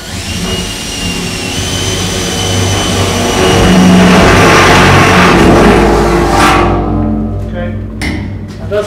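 A jigsaw motor roars loud and steady at close range for about seven seconds, swelling slightly midway, then cuts out and sputters briefly to a stop.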